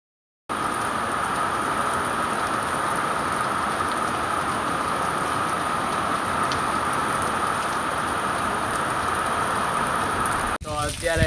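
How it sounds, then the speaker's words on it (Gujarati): Rain falls outside after raining since morning, a dense, steady patter that stays even throughout, with a voice briefly breaking in at the very end. "વરસાદ પણ ચાલુ છે સવારનો, હજી બંધ નહીં થયો"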